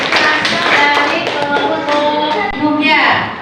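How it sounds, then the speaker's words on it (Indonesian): Students in a classroom applaud together, a dense, steady burst of hand claps lasting a few seconds, close and loud, with faint voices mixed in. "Boleh tepuk tangan."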